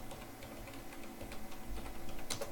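Commands are typed on a computer keyboard while playing OpenDungeons, a quiet run of soft, fairly steady keystrokes ending in a couple of sharper key taps.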